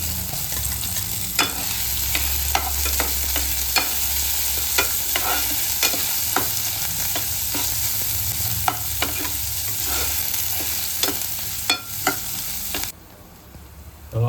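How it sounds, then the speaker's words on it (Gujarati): Onions sizzle steadily in a hot pan with ginger and garlic for an aloo paratha filling, with a continuous frying hiss and intermittent stirring scrapes. No voices are heard, and it goes quiet at the end. "આદુ લસણ ને હવે આપણે કાંદા ઉમેરી દઈશું."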